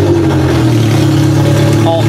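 A Toyota Camry built for demolition derby, its engine running at a steady, loud idle with a continuous droning hum and a slight rise in pitch near the end.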